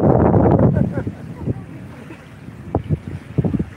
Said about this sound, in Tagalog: Malakas kasi hangin eh, maririnig yung hangin.